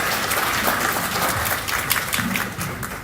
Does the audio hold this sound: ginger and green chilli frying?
no